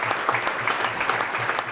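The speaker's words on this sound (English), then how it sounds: "That line drew loud applause during his final stop Tuesday at a Story County brewery." A crowd of about 300 claps loudly and steadily at a campaign stop inside a Story County brewery, a dense, continuous burst of applause heard close up.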